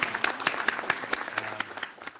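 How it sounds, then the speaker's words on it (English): A conference audience applauds panelists, a brief burst of scattered hand claps in a large room, moderately distant and fading out. "I'm just going to give them a round of applause."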